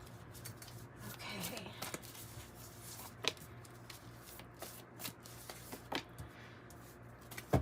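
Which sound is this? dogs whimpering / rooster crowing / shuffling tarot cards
shuffling tarot cards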